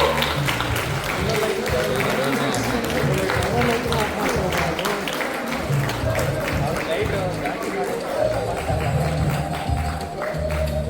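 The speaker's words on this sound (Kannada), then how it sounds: "Put your hands together, everyone. ಜೋರಾದ ಚಪ್ಪಾಳೆ ಬರಬೇಕು." A loud, sustained crowd applause fills the whole stretch at a launch event for a Honda electric scooter, a dense continuous clapping roar with a voice speaking over it.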